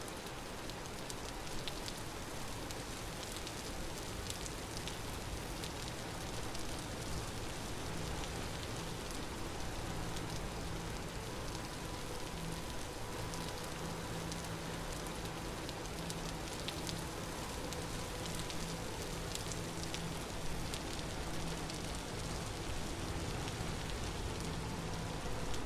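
Rain falling in the video game Vintage Story, a steady, dense hiss of drops that stays even and continuous from start to finish, with no talking over it.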